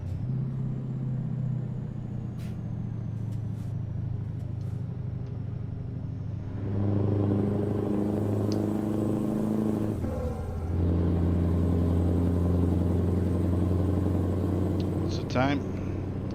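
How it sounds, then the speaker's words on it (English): A steady, deep engine drone with a low rumbling tone that shifts and grows louder partway through, like a Scania 730 V8 heavy truck cruising with an open pipe exhaust in a video game. "Open pipe engine."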